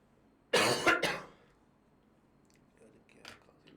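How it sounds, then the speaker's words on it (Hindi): A person coughs twice in quick succession, close and fairly loud, with a fainter sound following a couple of seconds later in an otherwise quiet room. "क्या खांसी लग जाती है 2 मिनट के बाद मुझे।"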